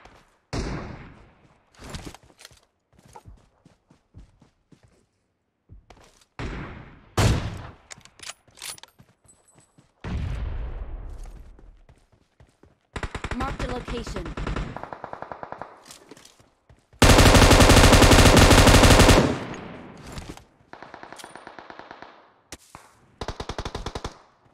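PUBG Mobile firefight around houses: bursts of automatic gunfire and single shots, some sharp and close, others more distant, with a long sustained loud burst late on and scattered thuds between.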